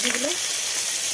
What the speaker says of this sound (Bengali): এটা সর্ষের তেল, এই যে বন্ধুরা দিয়ে দিলাম একটু শুকনো লঙ্কা, পাঁচফোড়ন